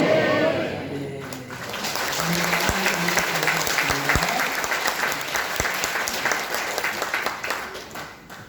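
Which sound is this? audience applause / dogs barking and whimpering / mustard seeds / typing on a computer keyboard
audience applause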